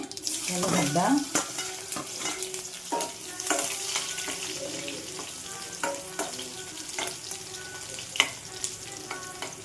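Garlic and dry red chillies frying in hot oil with mustard seeds and fenugreek, a continuous close crackling sizzle punctuated by sharp popping bursts and occasional stirring.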